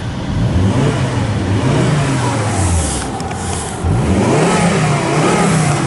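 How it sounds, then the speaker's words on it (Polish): A 2010 Volvo V70 2.5-litre five-cylinder turbo petrol engine revs up twice, its throaty note rising in pitch and falling back between bursts, loud and close. "ten silnik pięciocylindrowy bardzo ładnie brzmi"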